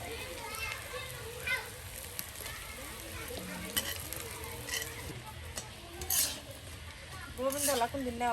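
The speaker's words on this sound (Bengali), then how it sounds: "দেখুন বড়া লাল লাল ভাজা হয়েছে।" Stuffed taro fritters made with ground rice, frying in oil, a moderate sizzle with clinks of pans and utensils while a voice talks over it.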